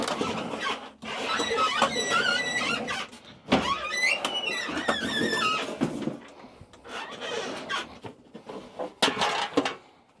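A Sega Naomi arcade cabinet being rolled on its wheels, giving repeated squeals and squeaks along with rattling and knocking in uneven bursts, loud and close.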